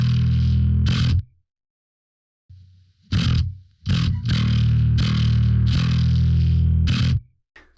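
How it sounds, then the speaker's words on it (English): Heavily saturated bass guitar through a Neural DSP Darkglass plugin plays alone in the thall style: loud, gritty chugging bursts separated by abrupt silences, with a longer sustained stretch of notes near the end. "I'm just going to play the bass by itself."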